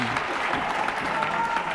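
Crowd at a sports final applauding a point, a short burst of clapping that stays loud and dense from start to finish, with voices mixed in.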